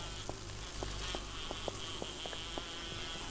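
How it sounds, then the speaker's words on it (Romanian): A mosquito buzzes in the survival video game 7 Days To Die, a thin steady whine over a droning background bed with several short faint ticks scattered through it. "Băi, omoară țânțarul."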